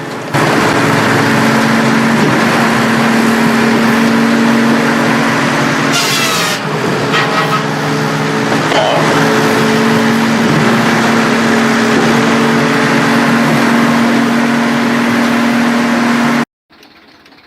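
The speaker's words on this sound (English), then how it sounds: "the cone log splitter mounted to a tractor is in steady operation" A tractor-mounted cone log splitter runs steadily on an open plot near woods, its steel conical tip working into large tree trunks: a loud, continuous engine drone with a steady low hum, grinding and a brief burst of cracking wood near the middle.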